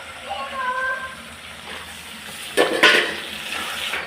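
Tomatoes fry in a pan with curry leaves, giving a soft background sizzle and a couple of louder scraping stirs near the end, with a voice speaking over it early on.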